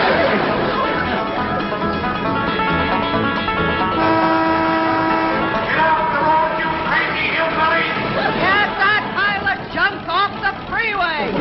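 Car horns honk repeatedly on a busy freeway in a 1960s sitcom scene, mixed with traffic noise and overlapping voices.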